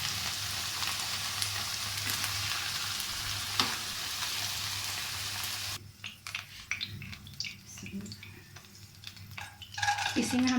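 Okra frying in a pan of oil, a loud continuous sizzle with spoon scraping that drops away midway into quieter, scattered clinks and stirring of the pan.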